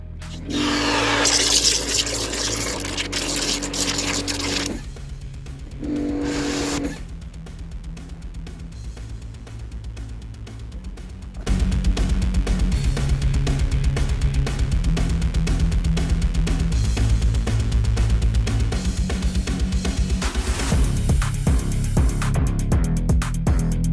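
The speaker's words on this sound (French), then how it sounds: "Un petit coup de Karcher dans le seau pour mélanger." A Kärcher pressure washer sprays into a bucket to mix cherry-scented shampoo, making loud hissing, splashing water bursts. Two short sprays with pauses between them are followed by a long, sustained, louder blast of rushing spray.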